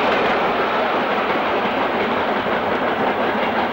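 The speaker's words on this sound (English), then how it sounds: "Saltley's 92082 drifts downhill on the 29th of September" Steam locomotive 92082 drifting downhill with a train, a steady loud broadband rumble and hiss of rolling wagons and clatter throughout, no distinct exhaust beats, close by.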